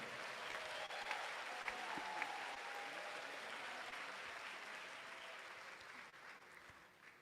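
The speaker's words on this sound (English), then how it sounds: "Can we give them a big round of applause?" Steady audience applause fills a hall at an induction ceremony for newly qualified medical and dental practitioners, a dense, even patter of many hands that holds for several seconds and eases slightly toward the end.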